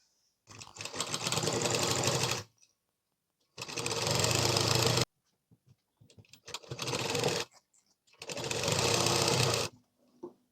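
A sewing machine stitches the shoulder joint of a chudidhar in four separate runs of rapid, steady whirring, each a second or two long, with quiet pauses and light handling noises between them.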